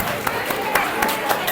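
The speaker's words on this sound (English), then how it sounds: "clap your hands for yourself" A classroom audience claps for themselves after a motivational talk at a school, a dense, steady patter of many hands with a few sharper peaks, fairly close and continuous.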